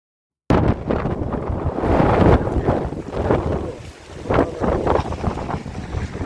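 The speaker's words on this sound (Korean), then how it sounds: "바람이 너무 살인적으로 불어서" Strong, relentless wind buffets the microphone outdoors on open flat land, a loud continuous roar that swells and eases without pause and with no voices.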